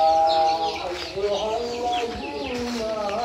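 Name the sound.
chickens clucking on village farm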